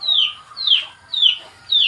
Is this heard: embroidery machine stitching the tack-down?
no